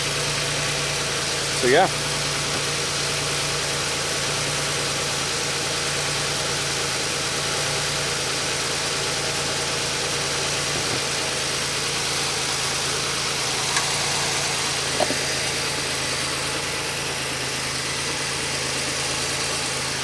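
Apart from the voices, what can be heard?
car engine idling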